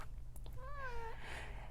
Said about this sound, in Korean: 우리 고양이가 울고 있네요.